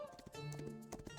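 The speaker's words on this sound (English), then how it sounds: "I hear the distant sound of galloping hooves" Galloping horse hooves in the Love and Deepspace video game, a quick run of clip-clop beats under a game music bed, heard briefly.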